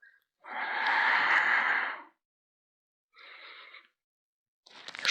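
Slow yoga breathing during a guided session: one long, close, breathy exhale lasting over a second, then a shorter breath and the start of another, separated by silence.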